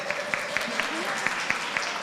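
Lecture audience clapping, a thin and sparse run of claps at a distance under a speaking voice.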